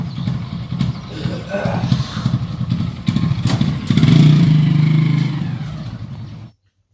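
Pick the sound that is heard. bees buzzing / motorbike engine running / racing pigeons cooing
motorbike engine running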